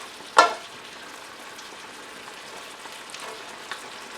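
Potatoes for a German potato salad, with bacon and onion, being stirred in a pan with a spatula: one sharp clack of the spatula, then a faint steady sizzle and soft scraping, quiet and close.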